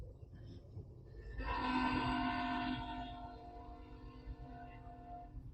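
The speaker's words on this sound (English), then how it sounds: "Man, this train is long." A long train passing, heard faintly at a distance: a low steady rumble of rolling cars with a sustained horn blast rising over it partway through and then fading back into the rumble.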